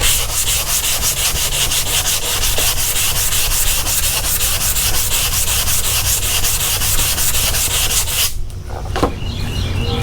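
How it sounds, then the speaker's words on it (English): Primer on a fiberglass bumper for a 1979 Chevy Malibu is sanded with 180 grit. A loud, steady, close-up rasping drone holds evenly for several seconds, then cuts off abruptly near the end. "I just finished up with the 180 grit sanding."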